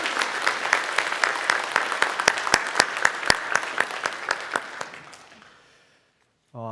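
Church congregation at a Sunday worship service clapping in blessing, scattered claps that thin out and fade to near silence, followed by a brief low tone at the very end.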